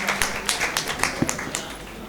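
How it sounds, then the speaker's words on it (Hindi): An audience at a kavi sammelan poetry gathering in Sambhal breaks into clapping, a quick, irregular run of sharp hand claps from a modest crowd, close and fairly loud for about two seconds. "एक बार जोरदार तालियां।"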